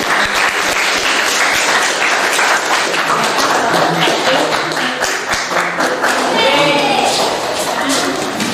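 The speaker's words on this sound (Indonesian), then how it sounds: "kita kasih aplaus terlebih dahulu untuk kelompok 1" A classroom applauds group 1, with a continuous patter of many hands clapping and some sharper taps. A few scattered voices sound through the clapping.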